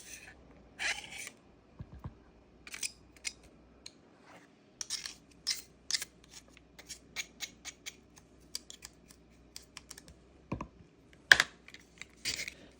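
Back of a paring knife scraping the skin off fibrous ginger root, giving short, soft, irregular scratches in quick bursts with brief pauses between, close and fairly quiet, with no talking.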